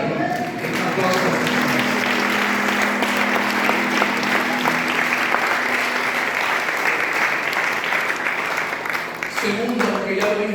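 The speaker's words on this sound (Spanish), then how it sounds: "¿Alguien puede aplaudir al Señor? Un aplauso." A church congregation breaks into sustained applause, a dense wash of many hands clapping that fills the room for several seconds, with voices calling out beneath it.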